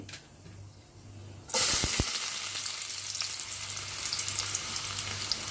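Tempering for upma hits hot oil with a sudden loud sizzle after a quiet start, then keeps frying in a steady close hiss and crackle without any voices.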